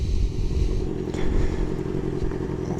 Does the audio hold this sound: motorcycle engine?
yes